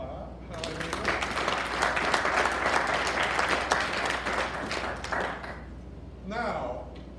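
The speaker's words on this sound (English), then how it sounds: "Give the Lord a hand clap." A church congregation claps their hands in praise during a worship service, dense sustained applause for several seconds with a voice speaking over it before it fades.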